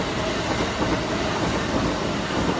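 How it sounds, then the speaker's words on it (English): A train passes close by in Japan, a loud continuous rumble of rolling wheels with rhythmic clickety-clack over the rails filling the whole stretch, no voices. "And that's how a train passes."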